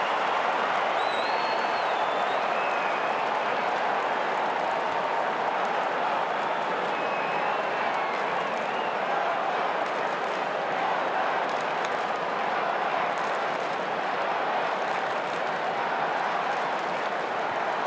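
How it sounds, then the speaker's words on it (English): A huge stadium crowd at the 2021 AFL Grand Final, Melbourne against the Western Bulldogs, keeps up a dense, continuous roar with applause and cheering and no break. "the crowd noise level here is illegal"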